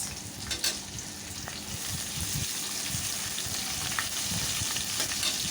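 Chopped onion, two bay leaves and whole cumin frying in hot oil: a continuous crackling sizzle with occasional stirring scrapes and sputters, moderately close and steady.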